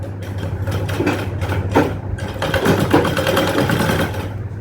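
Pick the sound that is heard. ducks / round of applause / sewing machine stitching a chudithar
sewing machine stitching a chudithar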